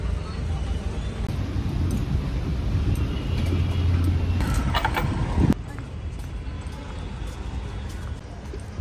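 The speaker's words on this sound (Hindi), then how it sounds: "इधर इतना जाम लगा है रोड पे, इतना जाम कि क्या बताएं" Steady road noise from a traffic jam, a dense rumble of engines and vehicles with a brief louder passing burst midway, continuous throughout.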